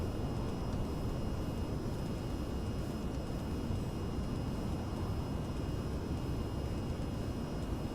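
Airplane engine in the VTOL VR flight game, a steady broadband roar holding at constant loudness as the aircraft climbs, with faint thin tones above the rumble and no voices.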